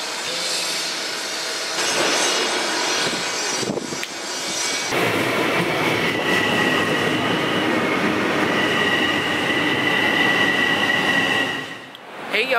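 A New York City subway train pulls into the station with a loud, sustained roar and metallic screeching, building and holding for several seconds before easing off at the end.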